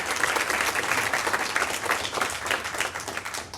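Audience applause at a hardware startup meetup in Austin, honoring the event's food and pizza sponsors: steady, dense clapping from a roomful of people, sustained and fairly close throughout.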